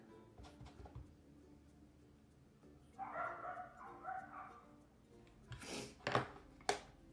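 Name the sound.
dogs barking at something outside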